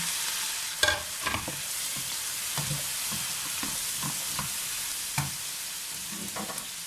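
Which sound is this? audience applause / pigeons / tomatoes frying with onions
tomatoes frying with onions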